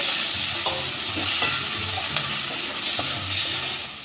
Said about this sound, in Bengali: ধনে পাতাটা দিয়েও আরেকটু নাড়িয়ে নেব